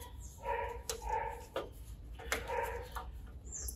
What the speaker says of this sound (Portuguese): que os cachorros do bairro eles gostam de aparecer